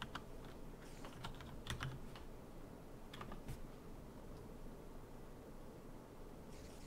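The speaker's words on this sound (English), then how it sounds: "let's type that out" Typing on a computer keyboard, soft irregular clusters of key clicks, fairly faint and close, broken by short pauses against a steady hiss.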